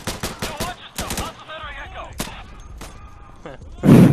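Gunfire in the video game Insurgency: a quick burst of sharp close shots at the start, then a lone crack and scattered faint shots, with a voice talking over the action and a loud burst of noise at the end.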